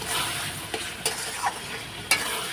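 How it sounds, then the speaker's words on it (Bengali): Spice paste sautéed with salt in a pan, a continuous soft sizzle broken by a few sharp scraping stirs of a spoon against the metal, close and moderately quiet. "এখন নুনটা দিয়ে কষিয়ে নেব"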